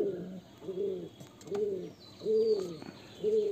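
Five rhythmic coos from a Murshidabadi Giribaj pigeon follow one another at a regular pace, near and clear, with faint background noise and no speech.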